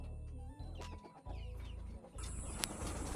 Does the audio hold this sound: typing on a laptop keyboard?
no